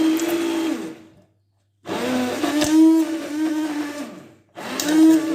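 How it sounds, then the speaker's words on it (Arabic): An electric hand mixer whirs loudly in two bursts, stopping briefly in between, with a steady motor hum that wavers as it churns. "هنا نستعمل بغا ميكسر أو الخلاط الكهربائي"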